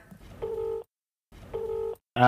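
Telephone keypad dialing to place a call: two sustained dial tones separated by a short silence, then the start of a third sharper tone, loud and close with no talking.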